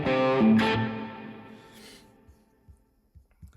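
An electric guitar through a Quad Cortex with slapback delay and the fuzz off rings out as one bright, loud strike, then fades away over a few seconds, leaving faint low thumps.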